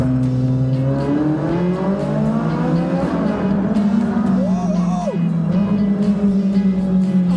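A Ferrari 458 Spider engine roars loudly at high revs in a tunnel, its pitch climbing and dipping through gear changes, with a full, reverberant boom.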